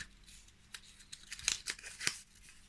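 A paper weekly message card is opened up close, giving a few faint crisp tearing and rustling snips spread over a couple of seconds in a quiet room.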